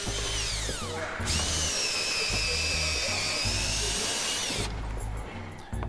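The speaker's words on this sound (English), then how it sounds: "drills holes for the iron nails" A power drill bores holes for iron nails in the overlapping boards of a large wooden viking ship hull, a loud continuous high whine with a brief stop and restart, heard close up.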